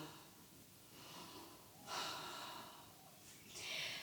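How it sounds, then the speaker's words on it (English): Deep, full breaths drawn during an energetic, heating yoga flow, with a quiet breathy hiss that swells strongly twice, near and unhurried, with no talk over it. "Breathing."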